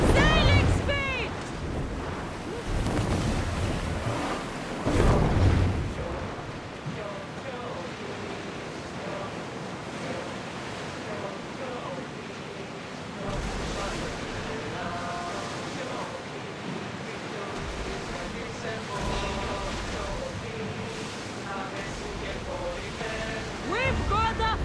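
A ship sailing over ocean waves in Assassin's Creed Odyssey, with rushing surf and wind noise that rise and fall continuously, loudest in the opening seconds, as voices talk over it.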